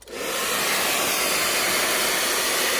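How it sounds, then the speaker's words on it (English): A hair dryer switches on and blows steadily with a loud, continuous airy roar close by, drying filler on a cracked leather car seat. "we get the hairdryer and basically"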